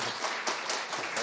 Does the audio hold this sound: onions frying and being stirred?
no